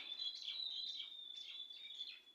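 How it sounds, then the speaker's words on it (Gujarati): Small birds chirp and twitter in short repeated bursts over a steady high insect-like hum, moderately faint, with no talking. "પક્ષી મીઠું મીઠું બોલે છે"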